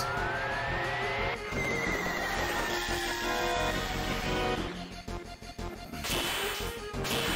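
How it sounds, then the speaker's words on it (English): Odin's summon attack in Final Fantasy 7 plays as a dense, loud burst of game effects, with whip-like cracks, a horse's whinny and heavy crashing hits layered over continuous music for several seconds. "Summon Odin and his definitely not only six-legged horse."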